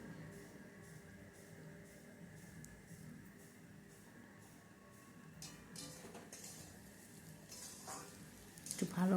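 Spices, potatoes and tomato being sautéed in a pan for a Bengali fish curry: a faint, continuous sizzle and quiet stirring, with a few metallic scrapes and clinks of a utensil against the pan growing louder near the end.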